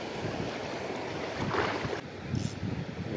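Rough sea waves wash and slap around a small fishing boat on the water, with strong wind buffeting the microphone in a constant loud rush and a brief splash-like surge near the middle.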